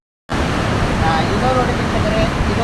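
Water rushing steadily through a canal check dam on the Malaprabha river near Ramadurga: a constant, loud broadband roar that starts abruptly after a brief silence and holds evenly throughout.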